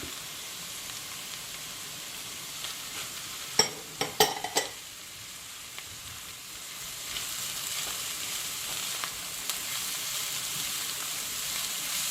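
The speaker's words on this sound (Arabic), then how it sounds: "من بعد ما تشحرنا هاد البصيله وهاد الفلفلات غادي نزيدو هاد قرع خضراء محكوكه" Sliced onion and peppers sizzle softly in a pan, and then grated green zucchini is added. A few clinks and scrapes break up the steady, gentle frying hiss partway through.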